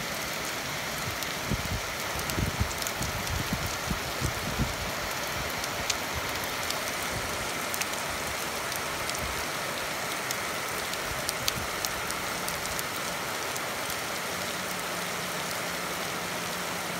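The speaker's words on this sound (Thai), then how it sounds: "ฝนตกฝนตกฝนตกนะฝนตกที่ฝรั่งเศสนะ" Steady rain falls in France, a dense, even hiss of drops on surfaces that continues unbroken, with a faint low rumble underneath and no voices.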